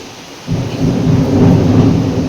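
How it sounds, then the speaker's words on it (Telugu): Thunder rumbles during a rainstorm, a deep, loud rolling boom that swells after half a second and sustains over a steady rain hiss, with no speech. "ఉరుములు వస్తున్నాయి."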